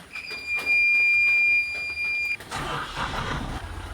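A bus engine in a driving simulator game cranks with a steady high starter whine for about two seconds, then catches into a louder, broadband running rumble that continues to the end.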